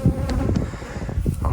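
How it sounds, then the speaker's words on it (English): Honeybees buzz around hives in a bee yard, a close, steady insect drone with small rising and falling swells and no voices. "It's good to see healthy bees."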